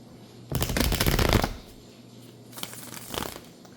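Tarot cards are shuffled in two quick bursts, a longer riffling rush followed by a shorter, softer one, close up and without speech.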